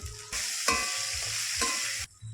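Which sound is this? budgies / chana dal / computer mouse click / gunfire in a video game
chana dal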